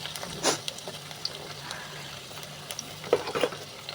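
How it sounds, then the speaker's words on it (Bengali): Onion, green chili and tomato being stirred as they fry in oil for a potato bhaji, giving a faint steady sizzle broken by a few soft scraping stirs, one near the start and a cluster toward the end. "এগুলো একটু নেড়ে চেড়ে নেব।"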